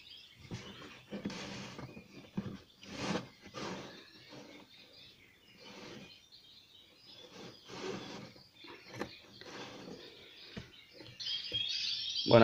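Birds chirping and singing inside an aviary holding canaries and wild canary hybrids, with bursts of calls scattered irregularly throughout, some close and bright, others softer, with no talking.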